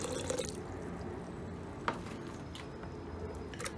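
Water poured into a blender holding beans for moin moin, a soft steady liquid trickle with small splashes and one brief drip, close and quiet with no talking.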